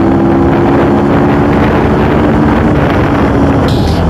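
A CF Moto two-cylinder motorcycle engine roars loudly and steadily, climbing in pitch as it accelerates through second and third gear, with heavy wind rushing over the microphone throughout.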